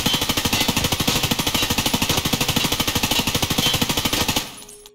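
An M4 rifle in the video game Escape from Tarkov fires a long, fast, loud stream of evenly spaced shots lasting about four seconds, then stops abruptly and leaves a short decaying tail.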